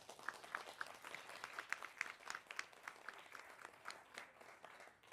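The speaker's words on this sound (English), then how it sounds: "Please give us a big round of applause" A forum audience in Washington, D.C. claps to welcome a speaker, with steady applause from many hands heard at a moderate distance, slowly thinning out over five seconds.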